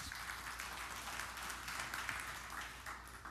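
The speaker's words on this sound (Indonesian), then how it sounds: "Beri tepuk tangan yang meriah bagi Tuhan." A church congregation applauds during a sermon, a continuous patter of many hands clapping at a distance, soft and steady throughout.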